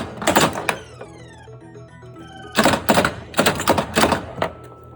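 A 1988 Williams Jokerz pinball machine as the ball is shot up the ramp: loud clattering thunks and rolling rattles in two clusters, with ringing electronic tones in between.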